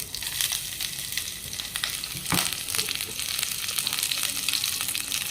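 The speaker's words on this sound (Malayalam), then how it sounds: "ഗ്രീൻ ചില്ലിയും കറി ലീവ്സും ഇടുകയാണ് കേട്ടോ" Green chillies and curry leaves frying in hot oil for a quick breakfast dish, a loud, steady, close crackling sizzle that holds throughout with no talking.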